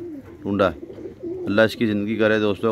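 Soft coos from competition flying pigeons come in short bursts beneath a voice speaking close by, the cooing mixed with and partly masked by the talk.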